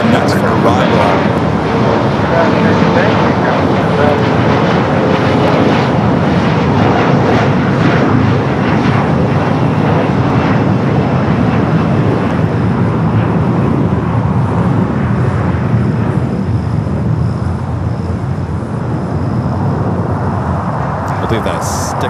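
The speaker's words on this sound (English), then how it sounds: "that Air Canada 777 at 200 long range LR flight 785 coming from Toronto up next for arrival" An Air Canada Boeing 777-200LR arriving at LAX from Toronto produces a loud, sustained jet roar with a broad rumble that eases slightly toward the end, while someone talks over it.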